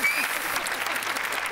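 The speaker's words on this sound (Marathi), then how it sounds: "जोरदार टाळ्या झाल्या पाहिजेत सासूबाईंसाठी" Loud, sustained clapping from a studio audience at a Marathi comedy show, an even wash of hands filling the whole moment, with a faint voice at the very start.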